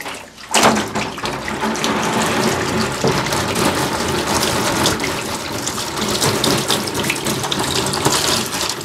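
Running water rinses a screen printing film, a steady, close, full gush that starts abruptly and continues without a break.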